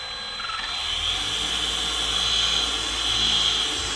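An SPTA Mini cordless polisher, a dual-action unit, running under load on polish. It gives a steady, close, high-pitched motor whine that holds continuously with slight shifts in strain and no speech.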